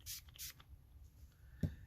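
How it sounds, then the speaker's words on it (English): Two short hissing bursts of Sheer Shimmer craft spray from a can, misted close up into a bowl, each about a quarter second long, followed by quiet and a soft knock. "I'm gonna spray a little bit in my bowl,"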